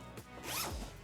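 A single quick zip on a Bellroy Venture Ready Duffel 55L travel bag, close and clear, one short pull with a rising then falling sweep, nothing else audible.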